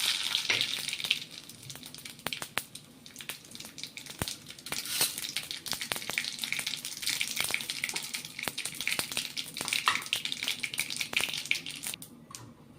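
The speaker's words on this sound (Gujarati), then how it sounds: "તો આપણું તેલ ગરમ થઈ ગયું છે. સૌપ્રથમ રાઈ અને હિંગ એડ કરીશું." Mustard seeds and asafoetida sizzle steadily in hot oil, a dense crackling fry with scattered sharp pops and spits throughout, close and fairly loud, with no talking.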